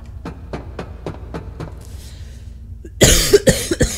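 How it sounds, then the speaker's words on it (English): A person coughs in a steady series of short dry coughs, about a dozen at even spacing, then several louder, harsher coughs bunch together near the end, all close to the microphone with no talking. "I'm gonna have to edit all this coughing out."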